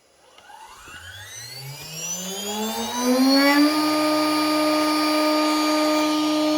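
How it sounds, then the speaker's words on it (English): The spindle of an X-Carve Pro CNC router, fitted with an Amana V-carve bit, spins up from a low hum into a rising whine over several seconds, then holds a steady, loud high-pitched drone. "So I'm going to turn on the spindle."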